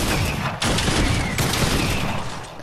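Shotgun blasts from Fortnite, a loud crack of broadband noise followed by a second sharp shot about a second later, each with a heavy booming tail, with no talk over them.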